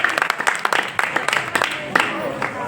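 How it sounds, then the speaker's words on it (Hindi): A crowd claps briefly, a quick burst of scattered applause from a room of people. "तालियां बजाइए"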